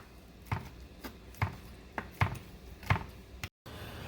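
A knife chops vegetables for a garden salad on a cutting board, about six or seven distinct, evenly spaced knocks, close and fairly quiet in a home kitchen.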